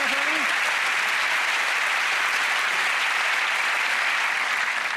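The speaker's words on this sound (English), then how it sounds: "Thank you for that round of applause" A studio audience applauds loudly and steadily, a dense wash of clapping that holds evenly for several seconds, with a brief voice at the very start.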